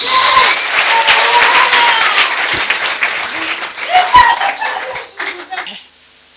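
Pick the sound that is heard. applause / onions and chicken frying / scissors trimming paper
applause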